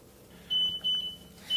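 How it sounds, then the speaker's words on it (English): A kitchen timer sounds while salmon with roast vegetables cooks, giving three high, thin electronic beeps in an uneven rhythm, the middle one held longest, over a low background hum. "Okay, there's my timer."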